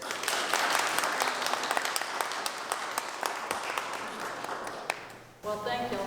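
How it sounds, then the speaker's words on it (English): An audience applauds to welcome a speaker at a talk, dense steady clapping filling the room for about five seconds before breaking off abruptly, then a voice begins speaking. "thank you for your applause"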